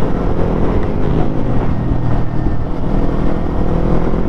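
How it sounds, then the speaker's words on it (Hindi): A group of motorcycles rides together, their engines blending into a dense, steady roar that runs unbroken and fairly loud for the whole stretch, with no voices over it. "और बहुत सारी बाइक पीछे है अभी।"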